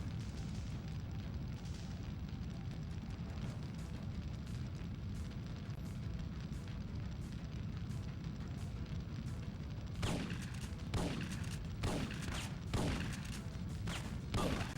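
Rapid bursts of video game gunfire from Syphon Filter crackle through the last few seconds after a long stretch of steady low rumble, landing as a cluster of sharp, fairly loud shots.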